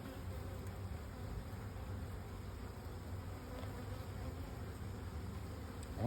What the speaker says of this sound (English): I don't think I've ever seen a colony this thick with bees.